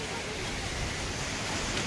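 Constant wash of sea surf rolling in at high tide on Versova Beach, Mumbai, mixed with wind buffeting the microphone; a steady, moderately loud roar.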